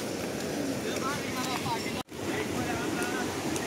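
The swollen, fast-flowing Ganga river rushes past in a steady broad wash of water, buffeted by wind noise, with a brief dropout midway.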